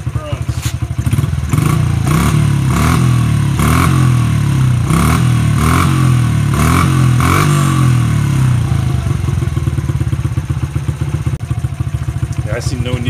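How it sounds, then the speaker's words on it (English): A 2006 Honda CRF50F dirt bike with a newly replaced carburetor idles with a steady close-up putter, then gets several quick blips of throttle that rise and fall before it settles back to idle. "Okay, it's idling out of the box. Let's give it a little gas, see how it runs."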